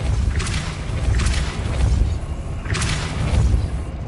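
Deep whooshing booms from the Depulso force spell in Hogwarts Legacy, three heavy pulses with crackling bursts, loud and close, spaced a second or two apart.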